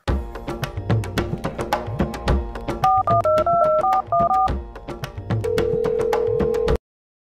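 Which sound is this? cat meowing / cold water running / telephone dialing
telephone dialing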